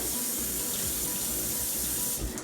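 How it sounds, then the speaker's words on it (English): Water from a kitchen tap runs steadily into a sink while hands are washed, a close, even rushing splash that holds throughout and tapers slightly at the end. "Wash my hands."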